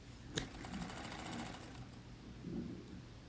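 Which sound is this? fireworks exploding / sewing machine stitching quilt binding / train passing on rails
sewing machine stitching quilt binding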